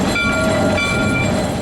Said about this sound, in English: the number 8 reverses for a fast charge back up to the depot for the TV cameras